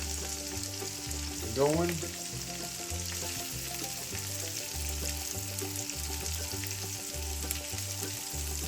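Onions added to a pan alongside hamburger steak, frying with a steady low sizzle under a looping music track, one brief spoken word near the start.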